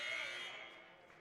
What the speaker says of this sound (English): Looks around, finds Thormeyer, corner 3 at the buzzer